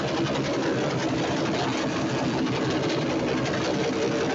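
Steady mechanical motorcycle engine drone at a motor show, running continuously at an even level, with a dense rattling texture and no pauses.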